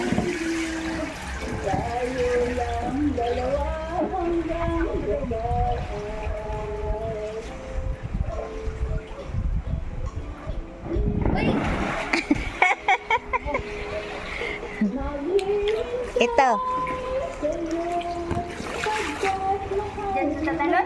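Water splashes and rushes at a waterfall swimming spot on a summer outing, loud and continuous with gusts of wind noise, while several people talk and call out over it.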